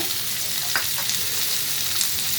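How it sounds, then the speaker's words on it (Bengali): Pumpkin and green chillies fry in a pan with a steady, close sizzle and a couple of faint stirring touches, no voices. "ভালো করে নেড়ে চেড়ে এখন এর মধ্যে আমি দেবো দুটো কাঁচা লঙ্কা"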